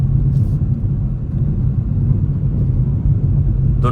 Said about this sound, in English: The normal mode doesn't sound as aggressive or doesn't accelerate as aggressively as the sport mode does